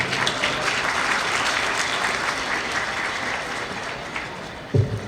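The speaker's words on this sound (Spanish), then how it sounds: "Recibamos a la doctora Gladys con un fuerte aplauso." Sustained audience applause welcoming a speaker at an international law congress at a university, a dense steady clapping that fills the room and fades slightly near the end, with a brief thump at the close.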